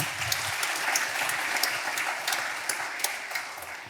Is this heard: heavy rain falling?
no